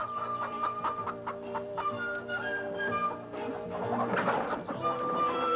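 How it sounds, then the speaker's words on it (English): Chickens cluck repeatedly inside a barn, a busy layered chorus of short clucks and squawks at close range, with no talk over them. "Chickens."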